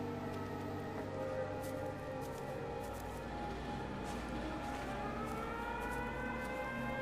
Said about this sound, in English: There's the siren, the world, the airstrike siren, air raid siren.